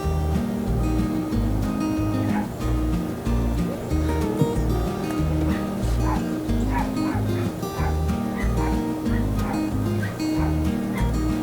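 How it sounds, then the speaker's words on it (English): Dogs bark repeatedly and whimper from nearby at a campsite, overlapping in uneven bursts over a steady low hum, with occasional talk mixed in. "Sounds like Leslie's not having a very good time with them dogs in there."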